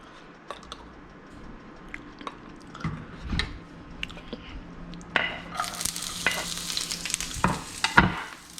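Onions frying in a pan for migas, starting with a quiet sizzle and scattered spatula taps, then swelling into a loud, bright crackle as stirring continues, close up and without talk.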